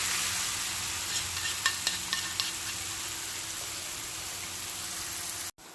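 Vegetables fry loudly in a pan of meat juices for spaghetti with meatballs, a close, steady sizzle with a few scraping stirs before it cuts off abruptly near the end.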